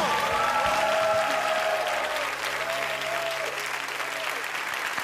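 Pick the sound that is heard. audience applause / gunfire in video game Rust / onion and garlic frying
audience applause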